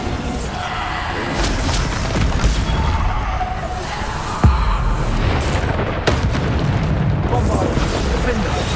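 Bombarda spell blasts in Hogwarts Legacy combat boom repeatedly amid dense battle noise, with sharp impacts punctuating a loud, constant roar and some speech mixed in.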